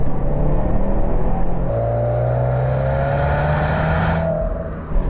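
A Subaru WRX STI EJ20 Final Edition, with balanced pistons, crank and conrods, revs smoothly and steadily upward, a loud, continuous engine note with no talking.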